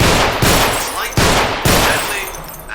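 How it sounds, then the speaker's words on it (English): Rapid Glock pistol fire from the hip in the Underhell shooter game, aimed at bottles on concrete: a dense, loud run of close shots with heavy echoing tails that blur into continuous gunfire. "firing from the hip is not an easy business, especially with a sidearm"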